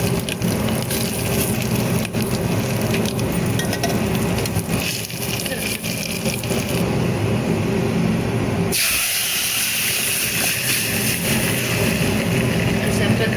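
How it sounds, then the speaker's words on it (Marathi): Spices crackle and spit in hot oil for a sambar tempering, a loud dense hissing sizzle with sharp pops that changes abruptly partway through, while a person talks over it. "दणदणीत फोडणी बसलेली आहे चांगला तडका बसलेला आहे"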